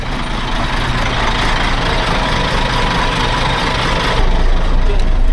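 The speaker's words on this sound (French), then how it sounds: "Je pense qu'on a trouvé un camion" A truck idles at a roadside in rural Morocco, its heavy engine giving a steady, loud low rumble that runs unbroken throughout and swells slightly near the end.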